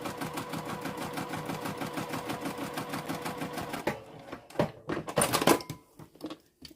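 A sewing machine bastes a zipper pocket in a fast, even run of close stitching pulses that stops partway through, followed by a few scattered handling knocks and rustles.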